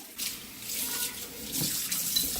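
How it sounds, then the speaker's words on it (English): Water runs steadily over hair and scalp while shampoo is rinsed out, a continuous close splashing rush with small surges and drips, no voices. "I'm rinsing out the shampoo"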